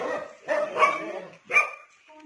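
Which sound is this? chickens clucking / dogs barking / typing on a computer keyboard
dogs barking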